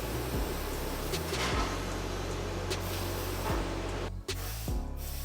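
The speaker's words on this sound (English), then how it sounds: "spray the deodorizer through the vent" Continuous hissing spray of an aerosol AC deodorizer pushed through the vent intake of a Toyota Tacoma, steady and close with brief breaks and a low rumble underneath.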